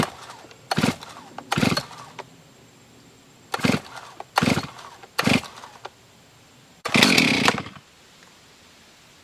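Pull-start attempts on a Stihl MS 391 chainsaw set on the ground with choke on: several separate rough bursts of cord rattle and sputter, each about half a second, then a longer final burst, close and loud.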